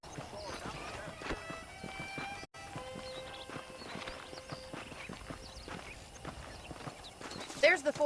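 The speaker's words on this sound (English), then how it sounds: "The horses are saddled up over here." Horse hooves clip-clop at a steady trot in the Red Dead Redemption video game, with occasional whinnies, under the game's voices and music.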